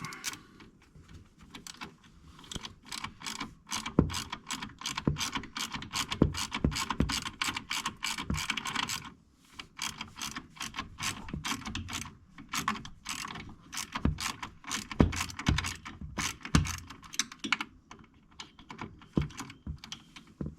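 A ratchet wrench backs a bolt out of the fuse box panel on a John Deere compact tractor, giving close, rapid bursts of clicking that run almost continuously with brief pauses and no talk.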